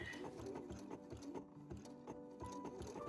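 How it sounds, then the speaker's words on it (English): A sewing machine stitches fabric for a homemade T-shirt, running in a quiet, rapid, steady mechanical rhythm close by, with no speech. "make sure that my needle catches the very bottom of the V as it passes through my machine"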